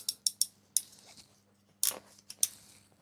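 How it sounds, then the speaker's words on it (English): A hand crimper presses a lug onto electrical wire during panel wiring, giving a handful of sharp metallic clicks and snaps, then a louder crunching squeeze and a final click, close and quiet with no speech. "once you've crimped that, give it a tug test"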